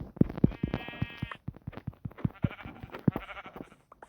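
Sheep bleating repeatedly at close range, several wavering calls in quick succession with short pauses between them, loud and clear.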